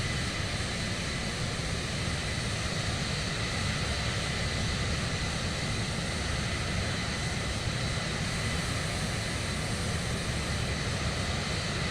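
Steady jet engine drone from a Cirrus Vision Jet in Microsoft Flight Simulator 2024, flying low over the Grand Canyon at about 140 knots: a continuous broadband roar with a whining upper hum, even and unbroken throughout.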